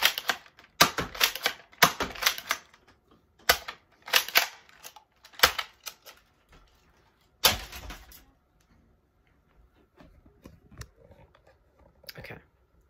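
Alphahawk and Spectre toy foam blasters firing in quick rattling bursts of sharp mechanical snaps and clacks, close and loud, then a final volley and a quieter stretch with faint handling noise.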